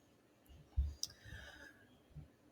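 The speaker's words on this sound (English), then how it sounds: "So I'm going to click on it." Computer mouse clicking during a document tutorial, a couple of faint, sharp clicks in an otherwise quiet room.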